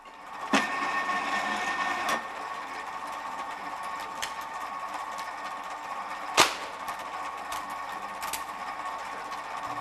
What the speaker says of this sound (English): In the scrap yard, you can see stripping process of thinner cables and processing of cable insulation.